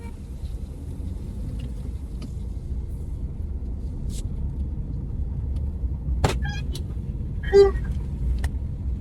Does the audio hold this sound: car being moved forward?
yes